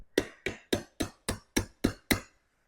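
A big old nail is hammered out of a wooden riser in eight sharp, evenly spaced metallic strikes. They are close and loud, and each one rings briefly before the next.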